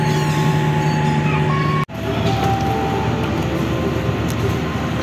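Onboard the KA Banyubiru train pulling into Gundi station, a steady loud rumble and hum of the carriage with tonal whines, broken by an abrupt cut before the rolling noise resumes.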